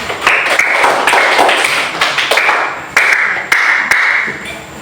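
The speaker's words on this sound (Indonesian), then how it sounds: "Beri tepuk tangan" Classroom of students clapping in unison on the teacher's cue, sharp rhythmic bursts of hands repeating in a chant-like pattern, close and loud.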